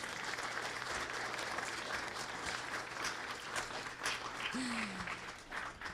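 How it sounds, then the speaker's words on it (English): A crowd gives a warm round of applause to welcome artists at an exhibit of Palestinian thobes, continuous dense clapping that stays full and steady for about six seconds, with a short whistle-like tone partway through. "If everyone can give them a round of applause"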